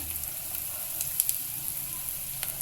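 Peanuts, chana dal and urad dal roast in hot oil with a steady close sizzle, a constant bright hiss broken by a few faint crackles and light stirring scrapes.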